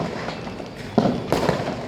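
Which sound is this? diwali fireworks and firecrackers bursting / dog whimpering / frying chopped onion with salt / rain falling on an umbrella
diwali fireworks and firecrackers bursting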